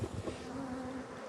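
Honey bees swarm around a hive box during a honey flow, a close steady buzzing drone with one sustained whining tone sliding past.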